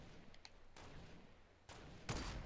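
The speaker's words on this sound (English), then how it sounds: "Marksman rifle." Marksman rifle fire in Fortnite comes as three sharp, distant shots spaced under a second apart, with faint sounds between them and no talk.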